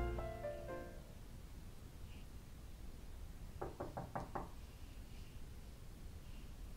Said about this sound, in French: Oui, toc toc toc.